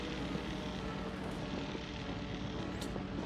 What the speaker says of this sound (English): And here comes some planes.